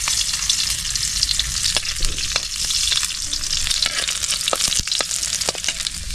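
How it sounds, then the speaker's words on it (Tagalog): Garlic sizzles in hot oil in a pan, a dense continuous frying hiss with occasional crackles and light stirring, loud and close with no talking. "start na tayo mag-isa ng bawang."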